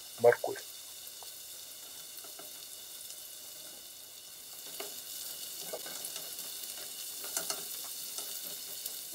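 Grated carrots go into a pan of onions frying for borscht. A soft, steady sizzle follows, with a few faint clinks of stirring near the start and end.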